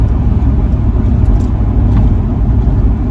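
A 1989 BMW 318i E30 Touring cruising in fifth gear, a steady low engine drone with road and wind rumble filling the cabin, loud and even throughout.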